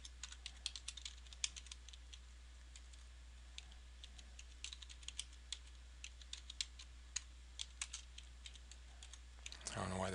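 Code being typed on a computer keyboard during a C# and XNA programming practice test, with quiet, irregular key clicks running steadily throughout and no voices.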